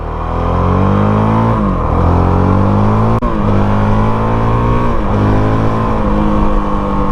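A 2024 Honda CRF 450RL dual sport motorcycle revs loud and close, its engine climbing through repeated accelerations with brief dips between gear changes, nobody speaking.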